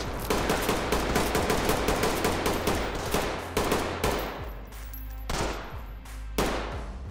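Sustained, rapid gunfire in the tactical shooter Ready or Not, with loud close shots and bursts pounding almost continuously, briefly easing before a few more heavy blasts near the end.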